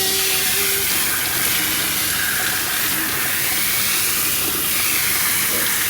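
A handheld water sprayer hisses steadily as a dog is rinsed during grooming, a loud, continuous close-up rush of spray with small shifts in intensity and no talking.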